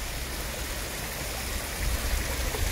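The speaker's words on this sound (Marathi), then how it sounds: "झऱ्याचं पाणी, खळखळ झऱ्याचं पाणी धुतला." Gurgling mountain stream water runs steadily over a stone being washed on a hillside at Malshej Ghat, a close, continuous broadband rush that swells slightly louder toward the end, with no voices.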